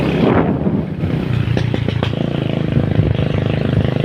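A motorcycle engine runs nearby with a steady, loud low rumble and a few sharp clattering ticks, holding at a constant idle-like drone throughout.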